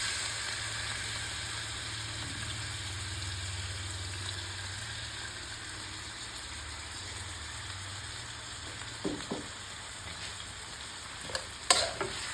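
Chicken sizzles steadily in a pan with garlic, onion and ginger, a continuous close frying hiss with a few clinks of a utensil near the end and no talk.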